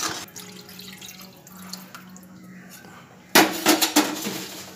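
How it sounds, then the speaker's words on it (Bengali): Cornflour-thickened water poured into chili chicken gravy in a pan: a low simmering hiss, then a sudden loud splashing pour with several sharp spikes near the end. "কর্নফ্লাওয়ারটা একটু ভিজিয়ে আমি বেশ পরিমাণ জল দিয়ে এটার মধ্যে অ্যাড করতে চলেছি"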